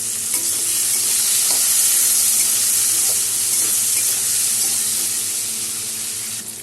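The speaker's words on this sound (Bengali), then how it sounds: "এখানে কেটে ধুয়ে রাখা একটা আলু দিয়ে দিলাম। ভেজে নেব।" Cut, washed potato pieces frying with turmeric and salt in hot oil, a steady loud sizzle and crackle that holds throughout without any talk.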